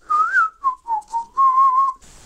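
A person whistles a short, lilting tune alone, the melody moving in several separate phrases with brief gaps between them.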